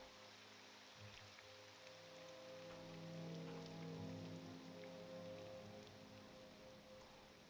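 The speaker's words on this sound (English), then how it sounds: "You can hear the pitter-patter of the rain going." Rain falling outdoors, a soft continuous pitter-patter spread evenly across the clip, faint and steady, with a low hum running underneath it.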